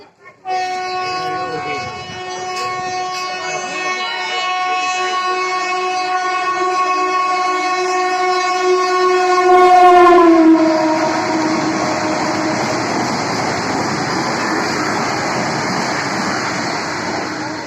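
A Vande Bharat express train sounds a long, loud horn, then roars past with a rushing rumble that continues steadily as it passes close by.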